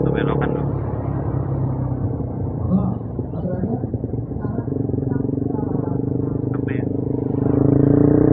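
A Honda CBR clutch motorcycle rumbles steadily while being ridden on the road, engine drone loud and continuous with wind noise, and people talk over it.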